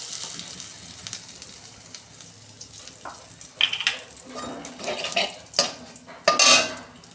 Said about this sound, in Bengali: শুকনো লঙ্কা একটা ফোড়নে দিচ্ছি, হিং দিচ্ছি আমি অল্প